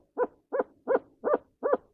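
A hand-blown turkey hunting call, used to make birds gobble, gives five evenly spaced, hollow hoot-like notes. They are close and moderately loud, with silence between them and no talking.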